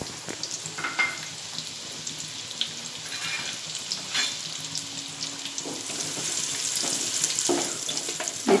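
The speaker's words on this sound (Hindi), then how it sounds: "अब मैं ये खारिक तल कर लूँगी।" Dry dates (kharik) frying in hot oil in a pot over a gas flame, a steady close sizzle with small crackles and occasional stirring clinks throughout.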